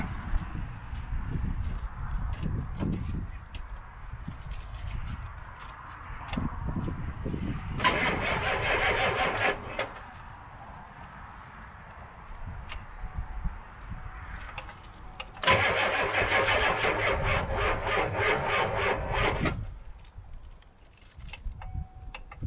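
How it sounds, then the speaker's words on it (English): A car engine cranks and catches on a cold start after thirty minutes on a block heater, giving two loud bursts of cranking and running roar, each lasting several seconds, between stretches of quieter idle and low rumble. "a cold start now, and mind you, we've got 30 minutes on the block heater"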